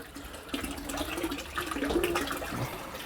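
Water pouring steadily into a home aquarium tank during a water change, a continuous close splashing trickle with a faint rising fill tone.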